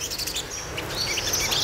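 Sunbirds chirp in short, bright bursts at close range over a steady background hiss, with several overlapping calls and no voices.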